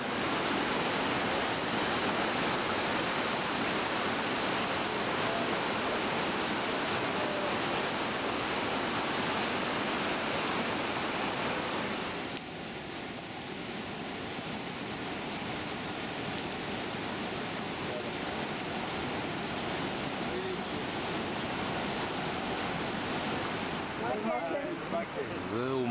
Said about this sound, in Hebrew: זהו מפל אל מקן הגבוה ביותר בקנדה, 141 מטר.